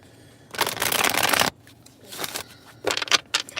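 Tarot cards shuffled up close in several quick riffling bursts separated by short pauses, crisp and fairly loud, with no talking.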